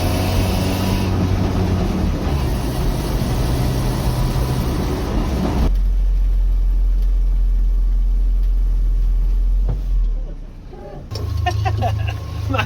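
A Land Rover Series 3 engine rumbles loud and close as it drives on the road, then drops to a low hum and briefly goes quiet before the engine noise returns.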